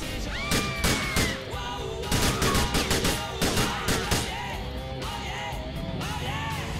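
Gunfire rings out as a car is shot at in Grand Theft Auto 4, with rapid bursts of loud shots and impacts, then scattered ricochet-like pings.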